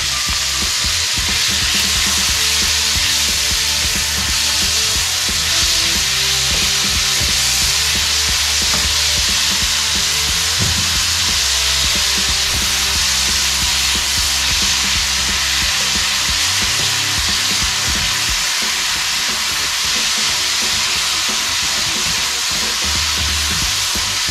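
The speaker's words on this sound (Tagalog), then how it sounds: "So yan, okay na yung mga kabalen, itong ating ginisang bawang at saka sibuyas. Ilalagay na natin itong ating kamatis." Tomatoes fry in a pan with sautéed garlic and onion, making a steady, loud, continuous sizzle with faint stirring scrapes underneath and no talking.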